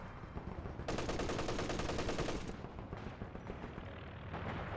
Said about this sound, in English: Automatic fire.